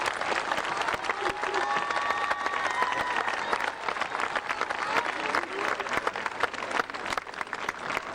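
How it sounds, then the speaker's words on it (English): A graduation ceremony crowd applauds the parents and guardians, with a broad, sustained wash of clapping from a large audience and a few faint voices mixed in. "please join me in applauding these parents and guardians who raised these children"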